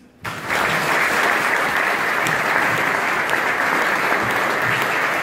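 Sustained audience applause at a French civic event, a new Jaguar Network headquarters being honoured in the city, dense steady clapping filling the room after a brief quiet start.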